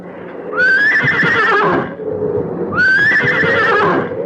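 A horse gives two loud, close whinnies as a radio drama sound effect, each a rising then falling squealing neigh, with soft hoof clops underneath.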